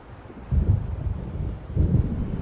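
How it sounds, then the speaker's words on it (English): Low rolling rumble of distant thunder in Alan Wake Remastered, two swells of a coming storm building after a quiet start, with wind-like noise and no talk. "It seems there's a storm coming"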